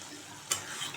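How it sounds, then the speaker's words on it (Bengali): Fried potatoes stirred into cooked masala in a pan over low flame, a soft steady sizzle with one brief scraping stir of the spoon midway, close and quiet. "আগে আলু দিয়ে মশলার সাথে ভালো করে এটাকে মিক্সড করে নেব"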